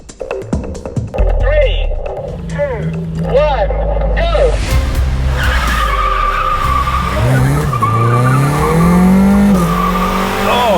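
A Volkswagen Polo GTI facelift with a DSG gearbox launches hard from a standstill, with a loud, close tire squeal and a rising engine roar that carries into gear changes, while voices talk over it.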